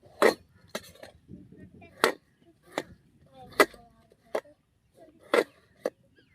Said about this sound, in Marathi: ते कापून घेते आता